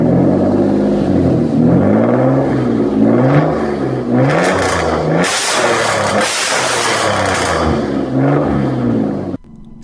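A Ford Cougar 2.5 V6 wearing a Ferrari replica body kit revs loudly and close, its engine note climbing and falling through several throttle blips before cutting off abruptly near the end.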